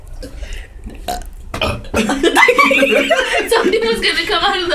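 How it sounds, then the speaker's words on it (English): A loud, drawn-out burp during a burping contest rumbles up after a few quieter sounds near the start and carries on for several seconds, with light laughter mixed in. "I need a burp."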